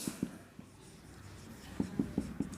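Chalk or marker writing on a board in a math lecture, a few quick soft taps and strokes in two short bursts, faint and close.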